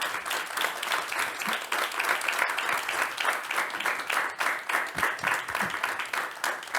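Applause from an audience at a road safety awards ceremony, many hands clapping in a steady, moderately loud patter with a few sharper claps near the end.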